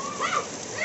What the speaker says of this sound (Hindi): फिर से बारिश स्टार्ट हो गया